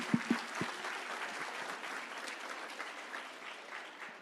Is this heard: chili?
no